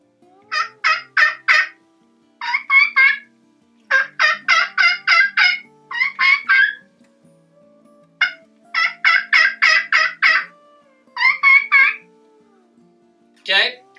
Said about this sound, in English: sometimes I like to throw in a kee kee in my yelp sequence just to kind of mix it up and make it sound more realistic.